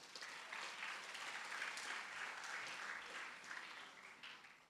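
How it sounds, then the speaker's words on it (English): An audience at the Grade 12 National Senior Certificate exam results release gives a sustained round of applause for members of the Portfolio Committee on Education, a fairly faint but even clatter of many hands that tapers off at the end. "Can we give them a round of applause?"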